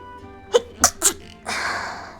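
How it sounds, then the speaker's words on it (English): Three sharp sneezes in quick succession, close and loud, followed by a sniffly exhale and rustle; nobody talks during it. "I am going to sneeze."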